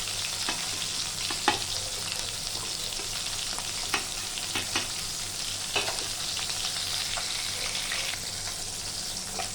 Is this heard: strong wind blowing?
no